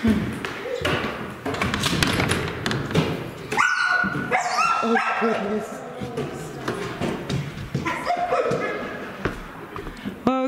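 A dog barks and yips a few times amid a busy indoor scene in Bannack ghost town, Montana, with people talking and moving around nearby.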